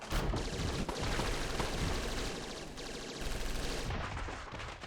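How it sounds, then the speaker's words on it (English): Dense, continuous gunfire from many guns fills a room in the Tokyo Necro video game, a loud, unbroken barrage of rapid shots with no speech. "An endless stream of gunfire rings out from throughout the room."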